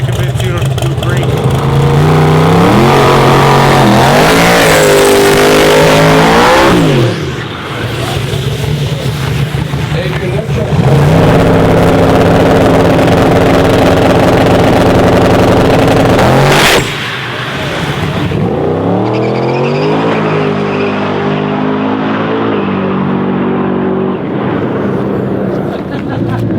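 A custom-built customer truck screams through a drag run, its engine revving hard through repeated rising gear pulls, loud and close, with people talking over it.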